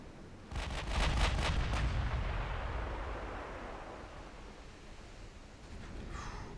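Dreadnought battleship main guns firing in a naval video game set in a Spanish campaign, a rapid volley of deep booms early on that rolls into a long, fading rumble, with a faint hiss near the end.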